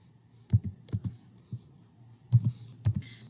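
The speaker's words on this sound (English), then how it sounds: "So I've got my code typed in." A Google Meet code is typed on a computer keyboard in short, separate clusters of soft, close key clicks with quiet gaps between them.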